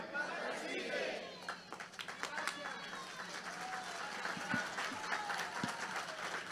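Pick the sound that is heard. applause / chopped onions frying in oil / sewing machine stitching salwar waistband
applause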